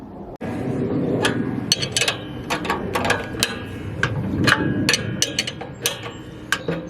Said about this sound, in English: I'm going to do it old school with a wrench.